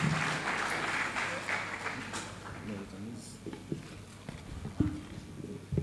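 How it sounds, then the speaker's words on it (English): An audience claps for several seconds, the applause fading as scattered claps and footsteps continue. "A round of applause for Ms. Ngozi Edozien."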